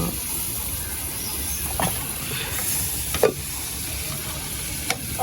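Onions sautéing in a pan for a homemade chicken roll, a steady soft sizzle with a few scraping stir strokes, close and moderately loud, no talking.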